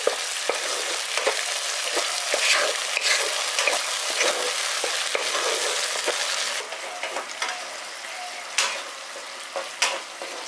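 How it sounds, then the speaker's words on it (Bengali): Whisked sour yogurt stirred into frying spices for a village-style pabda fish curry sizzles loudly and steadily in the pan, with scraping spoon strokes that thin into lighter crackles toward the end. "এবার এর মধ্যে আমি দিয়ে দিচ্ছি ফেটিয়ে রাখা টক দই 3 চামচ। ভালো করে মিশিয়ে দিচ্ছি।"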